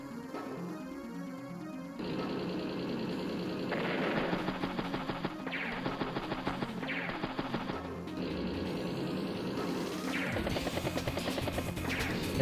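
A tank fires on an artillery unit in Advance Wars: Days of Ruin, heard as a dense run of rapid, punchy gunfire and crashing impact effects layered over continuous game music.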